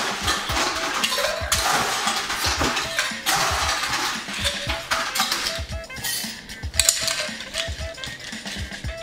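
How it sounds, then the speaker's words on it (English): A Martinez cocktail of Old Tom gin, sweet vermouth and maraschino is stirred with ice, giving a steady, close clinking and rattling that continues throughout. "And now we have to stir it up."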